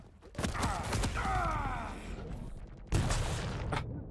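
Machine gun fire in a Quake duel, rapid rattling bursts in two separate runs with a pause between them, heard beneath commentary.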